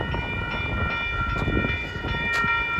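An eastbound Amtrak train rolls past close by, a loud continuous rumble of wheels on rail with steady rattling and a high tonal ring, sounding alone without talk.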